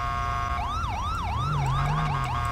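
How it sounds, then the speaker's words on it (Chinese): A police siren in the GTA V LSPDFR police mod wails in rapid rising and falling sweeps, clear and fairly close over a low engine rumble, with no talk. "警笛啊，各位！"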